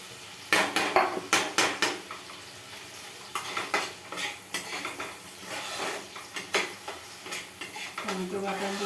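A metal spoon stirs and scrapes a pan as tomato paste goes into sizzling garlic and oil, with repeated clattering strokes at the start and steady frying underneath.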